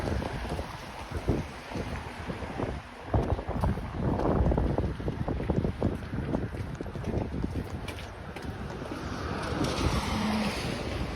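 Wind blowing on an outdoor nature hike, a steady rumbling gusty roar buffeting the microphone, with no talking.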